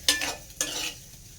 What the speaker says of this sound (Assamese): পনীৰকেইটা অলপ ভাজি লওঁ